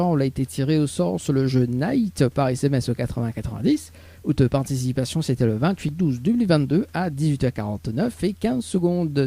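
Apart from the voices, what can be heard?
None of the usual background noises is heard.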